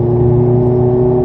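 A car's engine note holds steady and strong as power is gently applied out of a corner, a close, loud harmonic hum over low rumble, briefly and alone.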